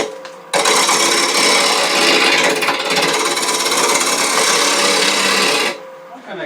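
Dried dogwood bowl blank turning on a wood lathe, giving a loud, continuous rasping scrape of the tool against the wood for several seconds before it stops abruptly.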